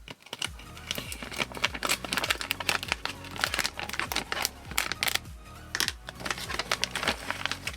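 Plastic packaging around Ford GT40 1/8 scale model kit parts being opened by hand, giving dense close crinkling and crackling bursts with sharp snaps throughout, no talking.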